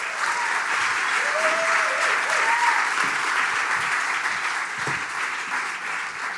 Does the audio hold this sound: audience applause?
yes